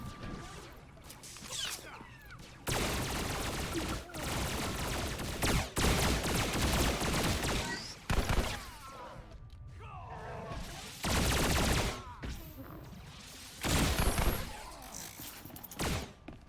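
Blaster fire from a firefight in Star Wars: The Old Republic, loud bursts of shots in repeated volleys with short gaps, mixed with game effects and brief voices.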